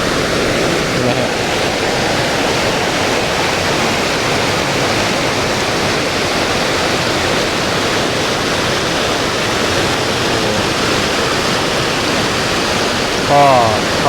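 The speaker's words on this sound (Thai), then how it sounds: "มาดูน้ำตกเนาะน้ำค่อนข้างเยอะนะฮะไหลเชี่ยวเลยนะฮะ" Strong rushing water pours down a rain-season waterfall at Wang Takrai park, a dense, loud, steady roar of white noise filling the whole stretch, with a brief voice near the end.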